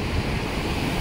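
Water rushes over a monsoon-swollen waterfall at Randha Falls near Bhandardara, a loud, dense, continuous roar filling the brief moment without any voices.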